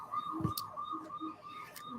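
A police car siren, a toy or small electronic one, wails in repeating rising and falling sweeps, fairly faint and steady, with a few soft clicks and thumps alongside.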